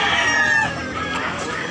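A bullstag rooster at a Tabunok, Cebu poultry market crows once in a loud, drawn-out call that tails off after about a second, with murmured voices and market bustle behind it.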